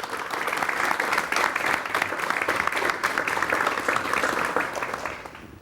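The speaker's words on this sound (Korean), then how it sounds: "여러분 박수로 환영해 주시면 대단히 고맙겠습니다." A studio audience on a 1987 Korean KBS television talk show applauds to welcome a guest, a dense, even round of clapping that fades out at the end.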